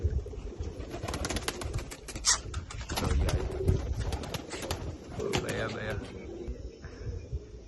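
Racing pigeons coo and rustle close by in a loft while several people talk over them, with occasional wing flaps and a faint whistle-like call.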